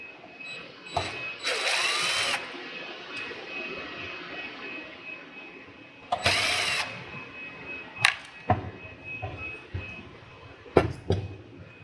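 A power drill runs in several short bursts while backing screws out of the top cover of a DOGE cryptocurrency miner, with two longer whirring runs followed by quick clicks and brief spins, close and fairly loud.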